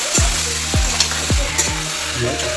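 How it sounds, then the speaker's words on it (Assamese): One kilogram of local chicken meat with whole spices sizzles loudly in a pan as it is stirred, with four rhythmic scraping sweeps of the spoon over steady frying. "লোকেল চিকেন মাংসটো ভালদৰে মই লৰাই দিছোঁ"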